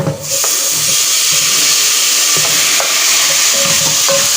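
Colorau and tomato frying in a pan, giving a loud, close, steady sizzle with hissing steam and a few light clicks of stirring throughout, with no talk.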